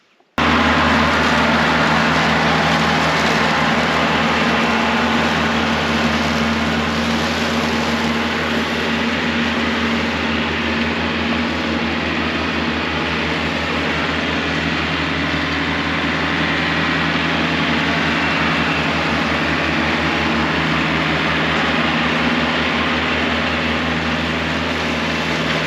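A new tractor's engine runs continuously at a steady, loud drone with a low rumbling hum, holding an unchanging idle-like tone throughout with no talking.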